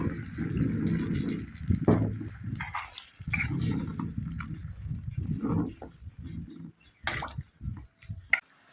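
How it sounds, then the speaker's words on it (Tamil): Water poured into a simmering kara kuzhambu, a spicy South Indian wedding-style curry, gushing in a couple of close, steady bursts with a few light clinks afterward. "கொஞ்சம் தண்ணி சேர்த்துக்கிடுவோம்."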